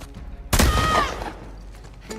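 A single loud gunshot in a video game, a sharp close blast with a short ringing tail, against quiet background game sound.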